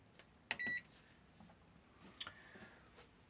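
Control panel of a microwave oven in an Elddis Majestic 105 caravan gives a short bright electronic beep as the timer is set, followed by faint clicks and button taps, quiet and close with no talking.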